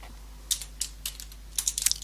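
Computer keys are tapped in a short, uneven run of crisp clicks close by, with a brief pause before a quicker cluster at the end.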